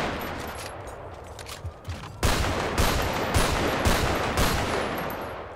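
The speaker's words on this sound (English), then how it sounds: "Warning shots aren't helping here." Police warning shots in GTA 5 near Los Santos International Airport come as a loud string of evenly spaced gunshots, roughly half a second apart, after a quieter stretch of background noise.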